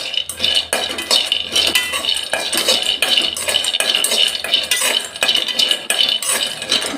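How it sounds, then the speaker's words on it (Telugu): Peanuts dry roasted in a pan without oil, a dense rattling and clattering of nuts stirred against metal, loud and close, continuous for several seconds with no speech. "పల్లీలు ఎంపుకుందాం అది కూడా ఆయిల్ లేకుండా"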